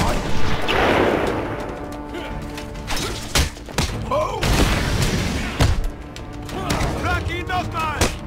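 Sniper gunfire in the video game Batman: Arkham Asylum: several sharp, loud shot-like cracks punctuate a busy game soundtrack of mechanical and combat noise, with someone talking over parts of it.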